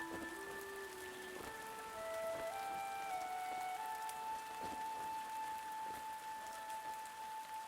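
Soft steady rain patters in The Spirit and the Mouse video game, a quiet continuous hiss under sustained musical tones, with a few faint taps scattered through it.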